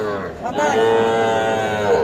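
At an Ambari cattle market in Dinajpur, where young bulls and heifer calves are sold, a cow lets out one long, loud, sustained moo that swells after a brief muffled start and carries to the end over faint background bustle.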